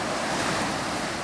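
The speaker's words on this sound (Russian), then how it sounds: "Вот оно, море" Sea waves washing onto the shore at a campsite by the sea, a brief, steady, loud rush of surf mixed with wind noise, with no voices.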